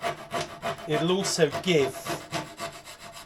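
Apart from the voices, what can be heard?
wood rasp filing wood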